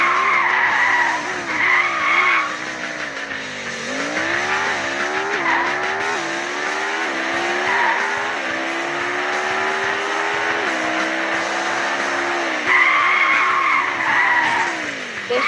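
Sustained, loud tire squeal from a car skidding and braking in a driving video game, with wavering pitch sweeps as the car slides through turns and engine revving beneath.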